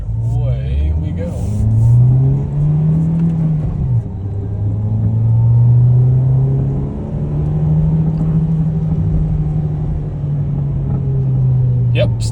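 A 2013 Volkswagen Jetta S with a 2.0L engine and 5-speed manual accelerates hard through the gears, a loud droning engine note rising in pitch, dipping at each shift, then climbing again; a person talks briefly.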